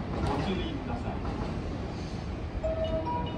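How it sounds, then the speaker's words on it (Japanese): A JR 223 series 2000 and 225 series 100 ten-car rapid train rolls into a Shin-Osaka station platform, a steady rumble with a faint squeal and a short chime while a station announcement plays over it. "4番乗り場電車が参ります。"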